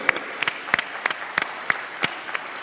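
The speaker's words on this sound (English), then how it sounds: "I want to have a big round of applause for all these people." Audience applause at an Indian event, with a small scattered group clapping in uneven, distinct individual claps that sound close and fairly sparse.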